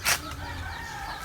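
A chicken gives a quick sharp cluck up close, followed by soft farmyard background with a faint low hum, no talking.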